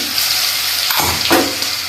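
Ginger-garlic paste and green chillies sauté in hot oil with mustard seeds and cumin, a steady close sizzle with a couple of brief stirring swishes near the middle.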